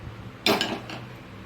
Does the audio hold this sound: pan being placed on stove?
yes